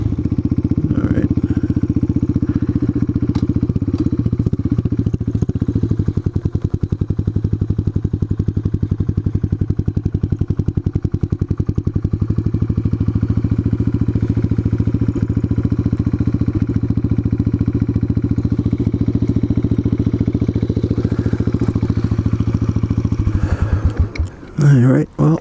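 A motorcycle with plasti-dipped wheels and a painted lower frame holds a steady, loud engine drone throughout, with a few rattling bumps, before it drops off abruptly at the end.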